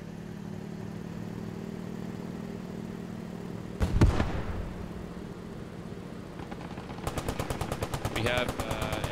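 In the video game Post Scriptum, a low-velocity gun fires a sharp shot, followed later by a rapid stutter of automatic fire over a constant engine drone, with voices talking on radio.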